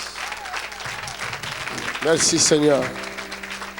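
A church congregation claps for Jesus at a Thursday service, steady applause under a held keyboard drone, and someone speaks briefly over it near the end.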